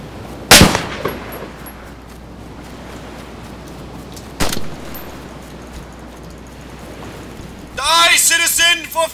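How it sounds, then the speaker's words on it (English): Distant gunfire in the video game DayZ: two sharp, separate shots ring out about four seconds apart over a low outdoor ambience, before a voice starts talking near the end. "Hear that? Someone shooting."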